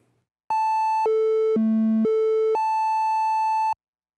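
Behringer Model D synthesizer playing a steady, bright harmonic tone pitched an octave higher, stepping down through lower notes and back up in a clean sequence of held pitches, loud and alone.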